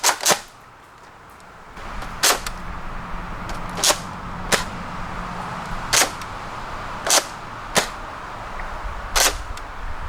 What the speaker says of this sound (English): so here we are shooting the double dealer down the range